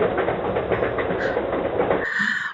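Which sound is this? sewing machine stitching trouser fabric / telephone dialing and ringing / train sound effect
train sound effect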